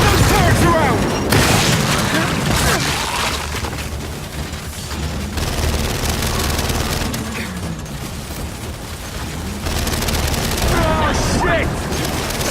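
Turret gunfire and explosions in the shooter game Gears 5, heavy booming bursts and rapid fire filling the whole stretch, with loud combat voices shouting over the din.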